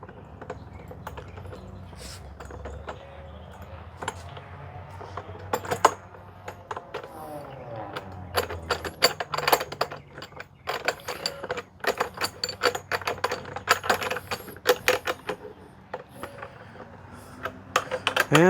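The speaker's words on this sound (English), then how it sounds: "Just hold the socket on that side and turn this side, and they will both, the axle will spin and they'll both tighten up." A socket wrench turns the wheel axle nuts on an Earthwise GS70015 electric garden chipper, giving quick rattling ratchet clicks in irregular bursts that grow busier as the nuts tighten, close up and fairly quiet.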